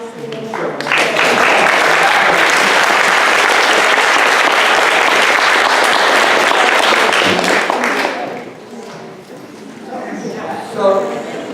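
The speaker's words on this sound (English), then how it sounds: "Have an applause" Loud, dense applause from an audience at a bioethics Constitution Day talk, holding steady for about eight seconds before fading into scattered claps and murmuring voices.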